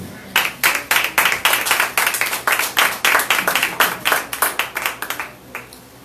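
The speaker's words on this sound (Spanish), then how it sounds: "Vamos a darle palmas de alabanza al Señor." A church congregation claps together in praise during a worship service, a steady run of sharp, regular, fairly loud handclaps about two per second that fades slightly at the end.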